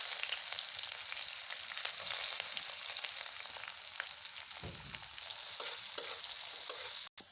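Chopped onion frying in hot oil with bay leaves, cinnamon and cardamom for a country chicken curry, a constant bright sizzle running alone throughout, with a brief low knock near the end before it cuts off.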